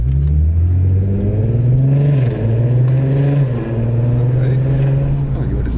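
Volkswagen Golf R32 with a naturally aspirated, non-turbo engine pulls and accelerates with a steady, loud mid-pitched drone, sustained throughout while people talk over it inside the car.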